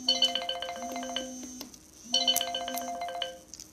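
An incoming call rings on a phone: a bright melodic ringtone plays in two clear repeated bursts with a short pause between them, loud and close, with no speech.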